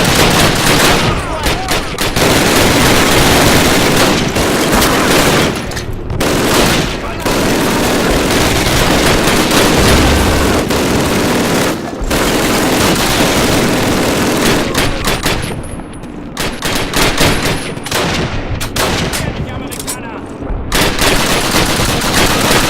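Rapid bursts of automatic and rifle gunfire crackle almost nonstop in a Call of Duty battle, loud and dense with brief gaps, over a constant roar of combat noise.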